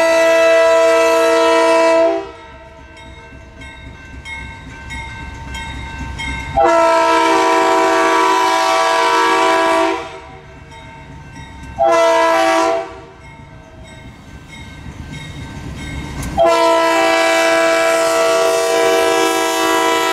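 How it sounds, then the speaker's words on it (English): RS3K locomotive sounding its horn in four long, loud blasts with short pauses between, a rich chord at a level crossing over the rumble of the passing train. "Why not hear that horn one more time, just for good measure"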